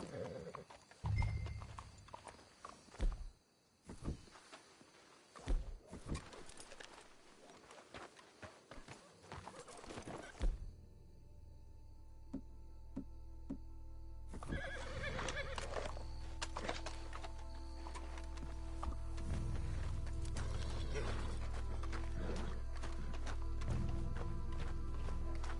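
Horse hooves thud and clatter in the Red Dead Redemption 2 video game, with occasional neighing, before a heavy, steady rumble takes over the second half.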